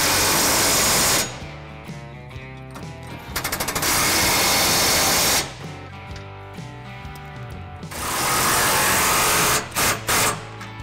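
Trailer hitch bolts on a 2019 Chevy Silverado 1500 are run down with a power impact tool, loud close rattling bursts of hammering in several long runs separated by brief pauses, with no speech.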